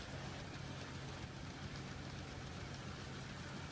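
The 7721 combine harvester in Farming Simulator 19, a steady, low engine drone, faint and even, with no pauses.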